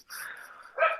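A dog gives a short run of barks, a sustained yelping bark followed by a sharper, louder one near the end, fairly close and alone without talk.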